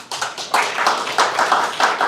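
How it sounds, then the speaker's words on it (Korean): A church congregation claps in a loose, rhythmic pattern of close, sharp hand claps, the beats grouping into repeated bursts over about two seconds. "우리 다시 한번 박수 줍시다"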